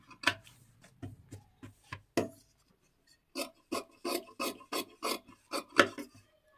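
Scissors snip through fabric while a one-piece jacket is cut out, a close series of short, crisp cuts in uneven bursts separated by brief quiet gaps.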